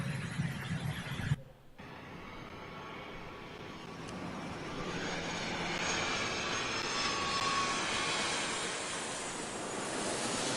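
Steady, broadband airliner cabin roar of engines in cruise flight, loud and continuous after a brief dip near the start, with no voices.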